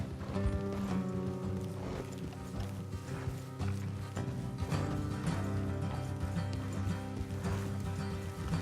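Horse hooves galloping along a road in Red Dead Redemption II, a steady fast clip-clop rhythm that carries on for several seconds over a loud, dense bed of continuous game music and ambience.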